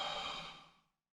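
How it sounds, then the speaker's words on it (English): A slow, audible exhalation during a tai chi commencing move, breath flowing out steadily and fading to silence after about a second, close and alone. "and breathing out."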